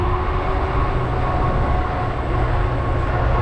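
A train rolls past in a continuous loud rumble with steady wheel noise on the rails, heard close by from a moving ride through a town.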